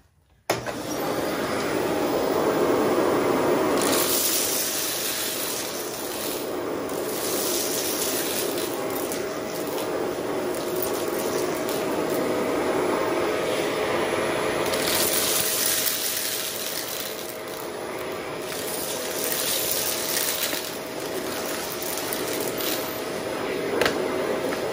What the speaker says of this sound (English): canister vacuums usually can pick up heavier items